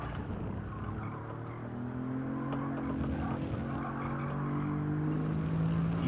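A race car engine in Gran Turismo 7 drones and holds steady tones that slowly climb in pitch under throttle, with a faint tyre-scrub hiss, moderately loud and without talk.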